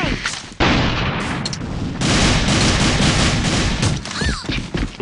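Dense gunfire in the online shooter AVA, rapid continuous bursts and blasts, loud and close with barely a pause across the stretch.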